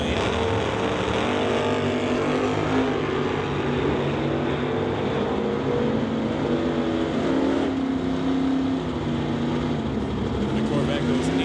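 A 1968 Chevy Nova and a Corvette drag race, their engines giving a loud, continuous roar with a droning tone that shifts in pitch across the run.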